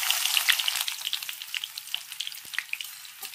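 Sliced onions fry in hot oil with a continuous bright sizzle and scattered small pops and crackles, close and steady, with no voices.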